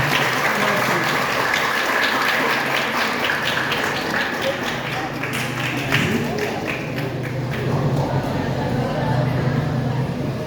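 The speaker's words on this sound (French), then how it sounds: "et pour l'applaudissement," Audience applause at a school ceremony, a steady wash of clapping from a large crowd filling the whole stretch at an even level, with a faint murmur of voices beneath it.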